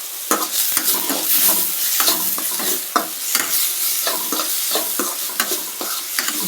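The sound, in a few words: frying curry leaves in pan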